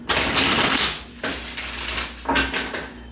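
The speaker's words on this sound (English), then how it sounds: "Okay, so we're just gonna shuffle some cards." Tarot cards being shuffled at close range, heard as three dense papery riffling bursts separated by brief lulls, with no talking.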